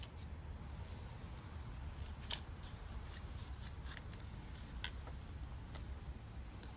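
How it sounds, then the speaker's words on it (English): Scissors cut paper for a children's craft with long, wide-open strokes. Faint snipping clicks come at irregular intervals over a low background rumble. "we're opening up the scissors as much as we can and going as long as possible"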